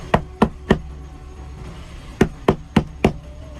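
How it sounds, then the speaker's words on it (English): Sharp knocks on the side of a camper van, a quick group of three followed by a pause and then four more, loud and close in a quiet interior. "an unexpected and alarming knock on her van changed everything"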